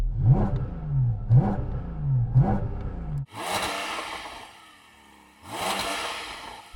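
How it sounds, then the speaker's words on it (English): A Porsche GT4 RS engine revs hard three times in quick succession, rising and falling, then a loud, sustained high-revving roar with a brief dip before surging again. "Yanni, let's rev up the GT4 RS."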